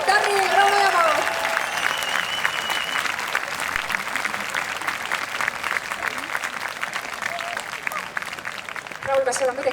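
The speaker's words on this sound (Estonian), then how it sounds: "palun teeme siis Raulile ühe suure aplausi" Audience applause at an outdoor park concert in Tartu's Pirogov park, a dense, steady clapping from a crowd seated on the lawn that lasts the full stretch, with some cheering and voices mixed in.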